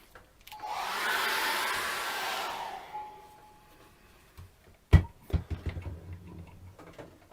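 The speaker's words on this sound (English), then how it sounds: "dry that off again with a hairdryer." A hair dryer blows steadily for a couple of seconds drying acrylic paint, then cuts off, followed by a few scattered clicks and knocks.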